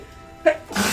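A single sharp sneeze, a short burst followed by a louder, breathy exhale, close to the microphone with no talking.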